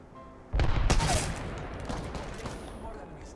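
Apex Legends gunfire erupts suddenly in a loud, rapid burst of shots after a quieter moment, then trails off into a lingering rattle and echo.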